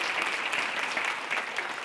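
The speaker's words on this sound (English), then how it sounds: "give yourselves a round of applause for being here and showing up" Audience at a community forum with the mayor applauds steadily, a dense, even wash of many hands clapping close and fairly loud throughout, with no talk over it.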